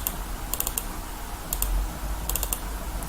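Mouse buttons clicking in small rapid bursts while a circuit board is laid out in Eagle PCB design software, mixed with keyboard-like taps over a low steady room hum, with no talking.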